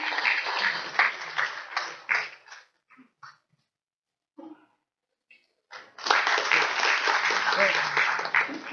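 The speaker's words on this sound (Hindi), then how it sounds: "और आपसे हम तालियां चाहेंगे सर के स्वागत के लिए" An audience at a government event on farmers' welfare schemes applauds to welcome a chief guest, a burst of steady clapping that fades to near silence with scattered claps, then swells again into full applause.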